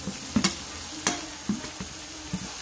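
Ground spice masala stirred and fried in oil for a home-style mutton curry, with a soft steady sizzle broken by several distinct scraping stir strokes of a spoon against the pan, close and fairly quiet.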